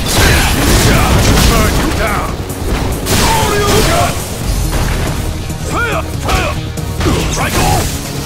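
Gill's Pyrokinesis fire attack in the fighting game Street Fighter V plays as dense, loud crashing impacts and whooshing blasts, with shouted voices layered through the barrage.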